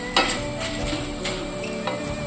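Spices and dried red chillies frying in a pan for curry leaf spice powder, a steady soft sizzle with light scraping and stirring strokes from a spatula, close and continuous with no talking.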